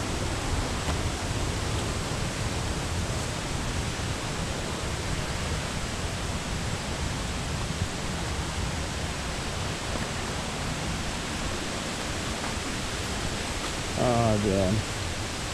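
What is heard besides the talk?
waterfall at Mt. Wynne, St. Vincent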